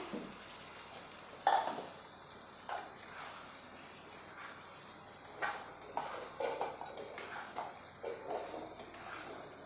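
Potato curry with spices and kasuri methi cooks in a pan with no onion or garlic, giving a soft steady sizzle broken by scattered stirring scrapes and light utensil taps near the pan.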